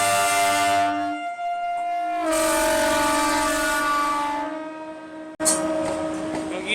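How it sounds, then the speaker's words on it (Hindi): A Jodhpur–Jaisalmer diesel DMU train at Ramdevra station on a single-line diesel section, with a loud, sustained horn that holds steady tones, breaks briefly, then resumes over a low engine rumble. "Jodhpur Jaisalmer DMU train"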